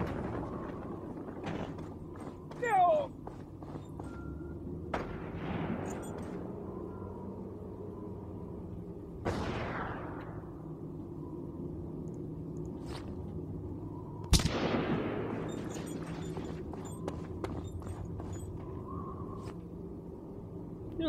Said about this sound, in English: Still a few gunshots, but not quite as many